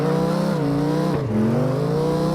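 A loud race car engine in the CarX Drift Racing video game revs hard to about 6,600 RPM, its pitch dipping between automatic shifts and then climbing again in a steady, droning roar.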